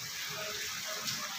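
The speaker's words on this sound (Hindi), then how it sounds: "बड़ी तेज़ी से हो रही है, आपको आवाज़ भी आ रही होगी, बहुत तेज़ है बारिश।" Heavy monsoon rain pours steadily, a dense, even wash of water sound that is fairly faint and distant, with no talking.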